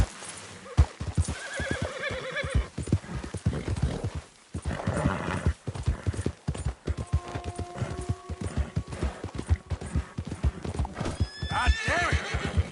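Horse in Red Dead Redemption 2 galloping with steady clip-clop hoofbeats, breaking into several clear neighs and whinnies, with brief speech alongside.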